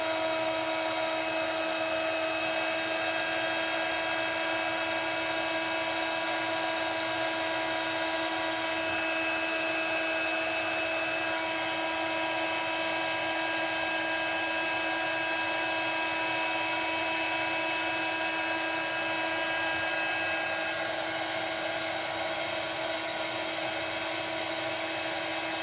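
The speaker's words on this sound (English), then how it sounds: "I'm going in with the second speed on my heat gun." A heat gun runs on its second speed setting, a steady high-pitched electric whine with fan hiss that holds unchanged and fairly faint throughout.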